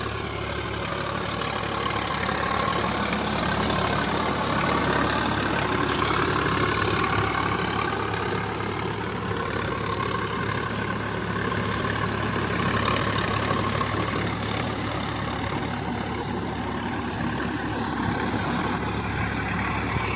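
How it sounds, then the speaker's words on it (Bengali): A Sonalika 47Rx 4WD tractor working in deep mud runs with a steady, loud diesel drone and low rumble, constant throughout with no change in pace and no voices. "এই গাড়ির আওয়াজ শুনতে শুনতে আর ভালো লাগছে না,"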